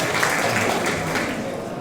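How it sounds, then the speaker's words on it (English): Audience applause in a hall at a 50th anniversary celebration at the Carnegie, a dense, steady wash of many hands clapping that carries on without a break. "give them a round of applause"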